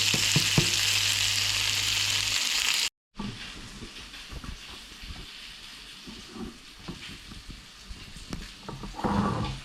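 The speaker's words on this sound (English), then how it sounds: "the onions and the bacon are becoming along lovely. Getting nice and crispy now as well." Bacon and onions fry until crispy for smash burgers, a steady loud sizzle at first, then after a brief gap a quieter crackling fry with stirring and scraping noises.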